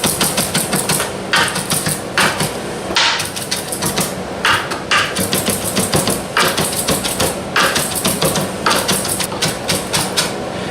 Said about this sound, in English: And then we could do the fast and crazy chopping.